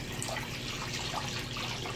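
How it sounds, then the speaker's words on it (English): Water drains from the small hose of a mini washing machine as a soft, steady, hissing trickle that stays faint and even throughout, with no voices. "I just take this little hose right here and pour it in there."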